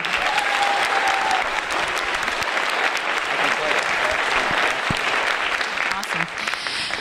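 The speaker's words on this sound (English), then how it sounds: "a round of applause" Sustained applause from an audience at a spring school band concert, dense clapping continuing at a steady level throughout with a few faint voices mixed in.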